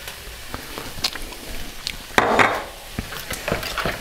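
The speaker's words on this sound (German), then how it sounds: "jetzt kommt der Speck da rein" Bacon dropped into a hot pan while making spaghetti carbonara gives a brief burst of sizzling and clatter mid-clip, set among scattered light kitchen knocks and clicks.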